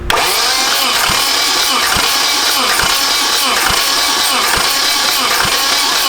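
An engine cranks over on the starter during a compression test, a loud steady whirring drone with evenly spaced thumps about once per second, running continuously without catching.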